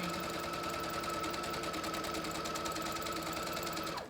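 A sewing machine runs steadily while stitching fabric for a handmade toy, a fast even mechanical chatter heard close and continuous, stopping right at the end.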